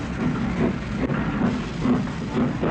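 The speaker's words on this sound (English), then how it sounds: "A real steam express of the sort that's almost entirely disappeared." A steam express train rumbles along steadily in 1967, its rhythmic chuffing and clatter carrying a constant hiss, loud and close.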